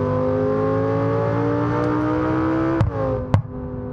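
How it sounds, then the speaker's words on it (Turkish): A Lamborghini in the BeamNG.drive driving game holds a loud, steady engine drone on a highway, rising in pitch as it revs, then cuts with two sharp exhaust pops close together at the end. "Baba çok egzoz patlatıyor be."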